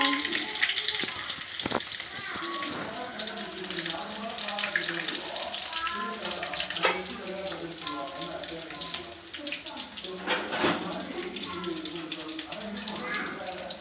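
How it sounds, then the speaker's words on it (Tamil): Mustard seeds and onion tempering in hot oil give a continuous close crackling sizzle that holds steady throughout, with brief sharper pops scattered across it. "கடுகு, எண்ணெய் தாளிக்க வேண்டும்."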